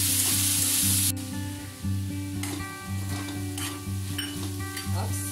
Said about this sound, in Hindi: फ्राइड राइस बनाते समय आंच को तेज ही रखिए।